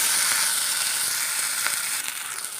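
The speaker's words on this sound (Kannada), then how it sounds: "ಇದು ಸ್ವಲ್ಪ ಚೆನ್ನಾಗಿ ಫ್ರೈ ಮಾಡೋಣ್ರಿ ಇದು ಚೆನ್ನಾಗಿ ಫ್ರೈ ಮಾಡಬೇಕ್ರಿ" Cut tomatoes fry in a hot pan for a North Karnataka okra dish, a loud, steady close-up sizzle and hiss with faint crackles.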